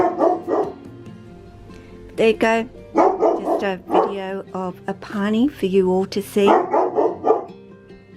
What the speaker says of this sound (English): has to do his good old barking at some point through the video for you to hear him